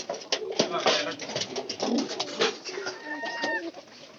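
A newly bought young female pigeon coos while laying an egg, giving repeated close, soft throaty calls with faint voices in the background.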